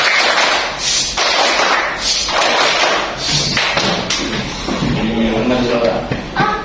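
A classroom of students performing a patterned group clapping routine, dense bursts of claps in rhythmic clusters, fairly loud and close, with some voices chanting along near the end.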